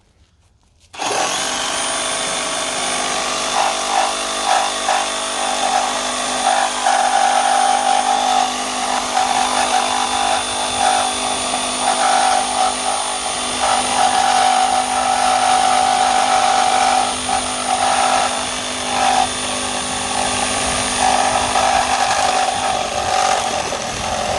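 A DeWalt 20V XR brushless reciprocating saw chews steadily through a 4x4 post with four deck screws embedded, giving a loud, continuous buzzing cut that runs for over twenty seconds with rattling fluctuations.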